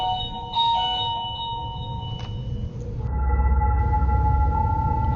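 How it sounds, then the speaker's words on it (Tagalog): An electronic doorbell chimes several times in sustained tones over faint background hiss, then a steady low hum rises underneath. "maririnig ang pagtunog ng doorbell na tila ba may pumipindot dito"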